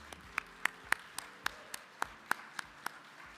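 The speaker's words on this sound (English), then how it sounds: "let's give them all another big round of applause" Sparse clapping at an awards gala honoring young professionals, a handful of distinct, fairly regular claps, about three per second, close and crisp over a quiet room with no talk.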